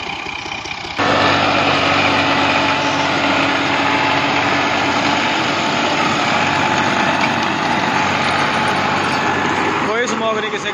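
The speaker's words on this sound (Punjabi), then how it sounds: "ਬਿਹਤਰੀਨ ਕਿਸਮ ਦਾ ਬਣਿਆ ਹੋਇਆ ਉਹ ਟਰੈਕਟਰ" A New Holland Al Ghazi 65 HP tractor engine runs with a rotavator, a steady loud mechanical drone that starts abruptly after a second and holds evenly to the end.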